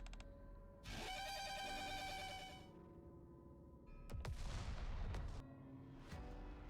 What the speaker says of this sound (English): Under a cloudless, red sky, a foreboding gunshot echoes out.